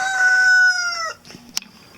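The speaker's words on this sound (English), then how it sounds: "These are the chickens. That's the chicken coop." A rooster crows loudly and close, one long drawn-out call, followed by a few soft clucks and a brief sharp sound.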